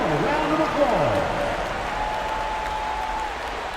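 Steady applause from a large crowd at an NBA playoff game fills the whole stretch, with a voice talking over it and a long tone sounding near the end.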